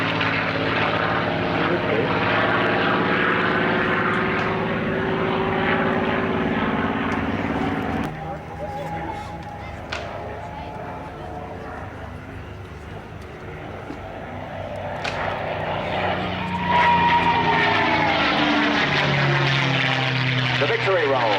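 Mustang propeller fighter at an airshow roars past with a whining engine, loud and near at first, fading, then swelling again as it returns, with voices talking over the flypast.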